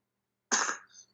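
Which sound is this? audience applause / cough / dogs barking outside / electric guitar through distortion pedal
cough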